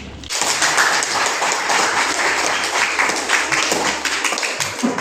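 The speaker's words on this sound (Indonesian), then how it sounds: "Kasih tepuk tangan." Steady applause from a classroom audience of students during a lesson on Hindu religious teachings, a dense field of many hands clapping close by that holds at even loudness throughout without fading.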